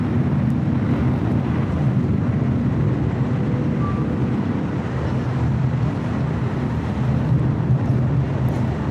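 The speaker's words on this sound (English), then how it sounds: "This is United Airlines 2622 taking off to Chicago O'Hare on a 757-300" A United Airlines Boeing 757-300 takes off from runway 25 right at LAX, a steady, broad jet roar and rumble that holds evenly throughout with a wind-like rush and no voices.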